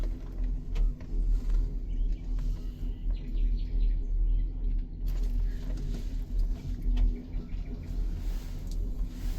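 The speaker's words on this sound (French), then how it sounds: "Avec aussi les sons de oiseaux." Faint bird chirps flit over a steady low rumble outdoors on the way up Mount Dajti by cable car near Tirana, Albania, small calls coming and going in the distance.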